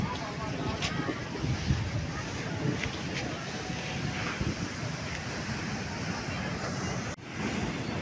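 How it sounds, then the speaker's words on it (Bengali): Sea waves roll onto Sankarpur beach at Digha, a continuous washing roar mixed with gusty wind buffeting the microphone and faint background voices. "ঢেউ কখন উঁচু হয় কখন নিচু"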